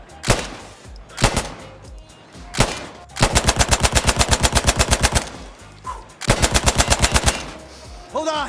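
Automatic gunfire in the shooter game Insurgency Sandstorm, starting with a few single shots and then two long rapid bursts, loud and close with a weapon-handling click near the end.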